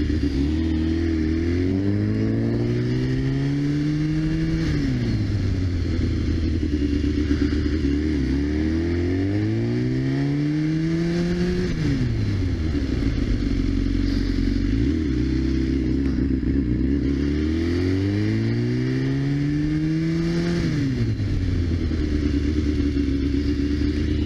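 BMW S1000RR motorcycle engine pulling up through the gears to about 30 mph, pitch climbing and dropping with each shift change over and over, steady and close with no talking.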